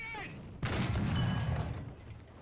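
A Tiger II H tank fires in War Thunder: a single sharp, heavy cannon blast cuts in after a moment of speech, followed by a rumbling decay of game noise, close and loud.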